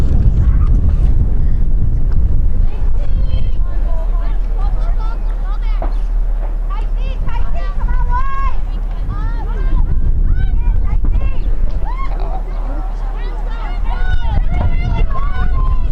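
Heavy wind buffets the microphone at an outdoor youth girls' ultimate frisbee state championship final, a loud, constant low roar under continuous commentary voices.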